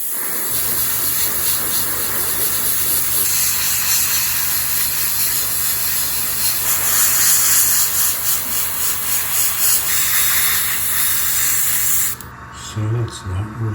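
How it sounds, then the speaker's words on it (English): Grey paint hisses steadily from a spray can onto the railing of a 1/200 scale model of the battleship IJN Mikasa, a close, continuous spray lasting about twelve seconds before cutting off into quieter handling noises. "the first thing we're going to do is spray the railing grey."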